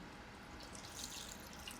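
Liquid is poured into a mold in a CNC parts-finishing shop, giving a faint, continuous soft trickle and splash with slight surges and no talking.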